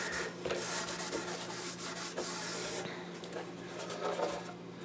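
Abrasive pad scrubbing a guitar neck from a StewMac 335-style kit, a steady, close rasping rub with rhythmic strokes and a faint hum underneath.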